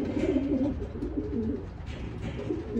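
Racing pigeons entered in a Futurity race coo softly in low, rolling calls from a loft, several birds close by with a steady murmur of cooing.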